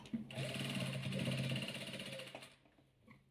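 Close by, a sewing machine stitches patchwork quilt pieces in a quick, even run of needle strokes that lasts about two and a half seconds and then stops, with a voice speaking faintly underneath.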